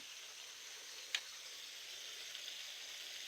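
Whole green chilies added to beef liver in a hot pan give a faint, steady sizzle, with one brief sharp crackle near the start and otherwise an even frying hiss.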